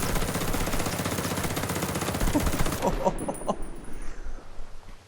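Assault rifle fire in the shooter game Ghost Recon Breakpoint, a rapid continuous automatic burst that runs loud for almost three seconds, then breaks into a few shorter stutters, with a voice talking underneath.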